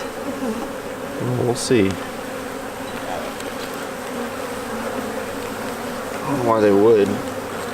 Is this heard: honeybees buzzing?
yes